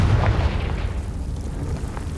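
A Confringo fire-blast spell goes off in Hogwarts Legacy on the Switch: a deep, heavy boom right at the start that trails into a low, dull rumble.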